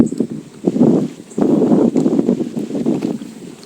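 Strong wind at a fishing spot near Metro Manila buffets the microphone in rough, low gusts that surge and ease, with no voices.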